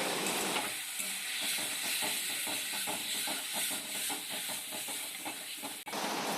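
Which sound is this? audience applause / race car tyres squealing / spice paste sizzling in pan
spice paste sizzling in pan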